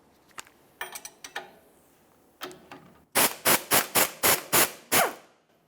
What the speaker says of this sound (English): I'll use a 17mm to hold the bolt that comes through from the back towards the front, an 18mm to loosen each of these nuts.